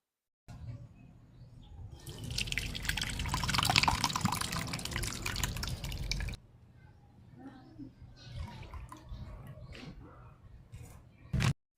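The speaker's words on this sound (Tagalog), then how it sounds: "Kapag naman natanggal na po natin yung kinayod na niyog o yung sapal kung tawagin ay salain na po natin ito." Grated coconut pulp is squeezed and strained to extract coconut milk, a loud wet dripping and trickling of liquid that fades to softer drips and splashes.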